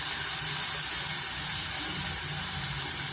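Chopped onion frying in a pan with salt and turmeric for spicy chicken sukka, a steady close hiss and sizzle that stays even throughout with no speech.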